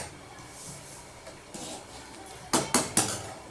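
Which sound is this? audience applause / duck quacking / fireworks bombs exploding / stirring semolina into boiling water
stirring semolina into boiling water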